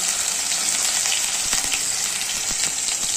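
Green chillies sizzle and crackle in hot oil in a pan while khichdi is being made, a continuous bright frying hiss with occasional pops and stirring clinks, close and steady.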